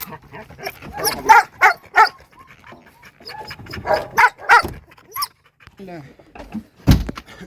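Dogs bark in short bursts amid people talking, with several sharp barks clustered together and a loud final yelp near the end.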